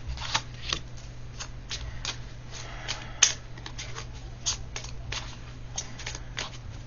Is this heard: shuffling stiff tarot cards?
yes